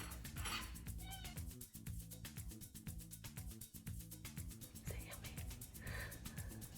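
Pie, a pet cat waiting to be fed tuna, meows several times at a faint, low level over a constant noisy background.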